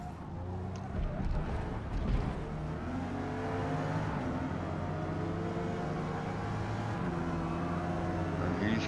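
Several racing cars in Forza Motorsport, including a Nissan Z and a Ferrari, run on the Homestead Miami circuit with a steady layered engine drone and shifting revving tones throughout.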